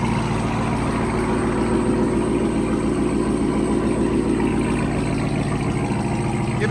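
A RAM TRX truck engine idles through an aftermarket exhaust, a loud, steady low rumble that holds even and continuous with no voices over it.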